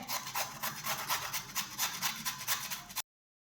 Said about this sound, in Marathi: हे आता बटाटे सोलून झालेले आहेत आता आपण किसून घेऊयात